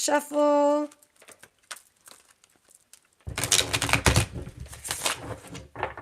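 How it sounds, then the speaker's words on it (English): Brisk papery riffling and flapping of a tarot card deck being shuffled, loud and close, after a brief hum and a quiet gap. "Let's do a quick little shuffle."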